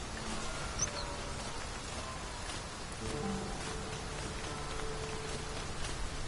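Steady downpour in Dragon's Dogma 2, an even wash of hissing rain with scattered drop patter, constant and moderately quiet throughout.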